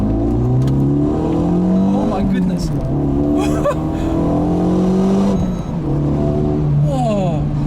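A Renault Mégane RS 275 Finale engine revs hard in first gear, its loud pitch climbing and easing repeatedly under excited talk from people inside the car.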